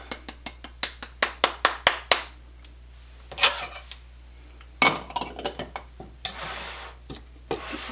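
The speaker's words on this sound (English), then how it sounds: "First we are going to go ahead and mix our flour, baking powder, baking soda, and salt" Flour, baking powder, baking soda and salt mixed together in a bowl for lemon poppyseed muffins: a quick run of sharp utensil clinks against the bowl, then a pause and more irregular taps and scrapes, close and clear.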